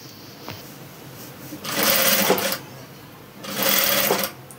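A sewing machine stitches the neck of a long frock in two short bursts of rapid mechanical whirring, close and clear, separated by a pause with faint handling sounds.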